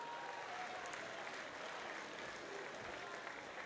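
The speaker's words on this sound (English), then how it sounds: "can we have a massive round of applause for both these men after 3 grueling rounds of action?" After a three-round combat sports bout between two fighters, the crowd applauds steadily, a fairly faint, even roar of clapping with no break.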